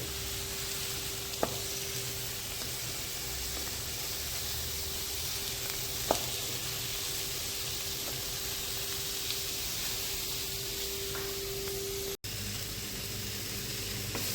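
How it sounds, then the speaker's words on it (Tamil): Onions sautéing in a pan for butter pork masala give a steady, dense sizzle that runs throughout, with a couple of faint utensil ticks and no talking. "வெங்காயம் வதங்குது."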